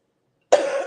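After half a second of silence, a woman gives a single sharp, close cough that trails off briefly.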